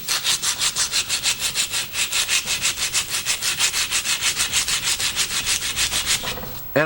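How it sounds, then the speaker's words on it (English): Hand sanding of Homelite T12 chainsaw parts makes fast, even back-and-forth rasping strokes, about five per second, close and loud for nearly seven seconds before a brief handling noise. "We'll just sand these two down."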